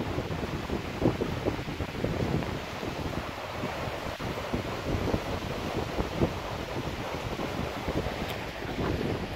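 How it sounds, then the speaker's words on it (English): A river running beside the trees at Greta Bridge in the Lake District, a steady broadband rush of flowing water close by and fairly loud throughout, with some wind buffeting the microphone. "there's a nice running river right next to me."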